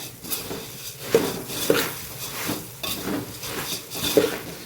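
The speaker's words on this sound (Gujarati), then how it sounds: "સરસ મમરાને આપણે સાતળી લેવાના છે" Puffed rice being sautéed in a pan for a puffed rice and flattened rice chevdo, with rhythmic scraping and clinks of a spoon against metal repeating about once a second over a light rustle, close and moderately loud.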